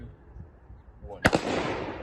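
A single sharp shot from a Hi-Point pistol cracks out about midway, loud and close, after a low rumbling background, followed by a brief echo and lingering noise.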